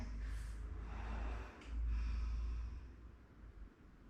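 A deep breath drawn and let out slowly during a gentle yoga flow, soft and close, with no talking.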